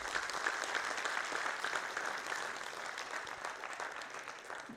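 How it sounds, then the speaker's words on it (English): Members at a Union Budget 2023 direct-tax discussion meeting give the speakers a big round of applause, a sustained roomful of clapping that holds steady and fades a little toward the end. "I request members to give them a big round of applause."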